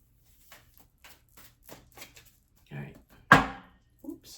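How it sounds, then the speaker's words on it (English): Tarot cards riffled in a brief burst, one loud crisp flurry after soft scattered taps and handling, with a voice speaking nearby. "Let me give a little shuffle."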